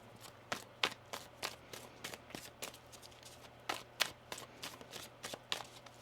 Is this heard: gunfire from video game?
no